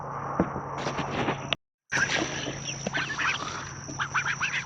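Ducks on a small farm, kept together with chickens, quack repeatedly at close range in a busy, overlapping chorus, broken by a brief silent gap partway through.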